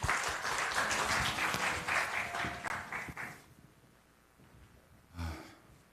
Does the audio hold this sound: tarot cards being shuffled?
no